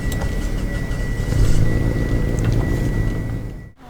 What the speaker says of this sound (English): here's the startup